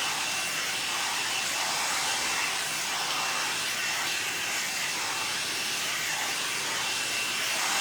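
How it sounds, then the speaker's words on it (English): A hair dryer blows steadily on hair during blow-drying at home, a constant broadband airy whoosh that stays loud and close without pause for the whole stretch. "blow drying it"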